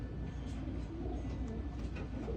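A racing pigeon coos softly over a steady, loud background hum, the low calls faint and partly masked by the noise.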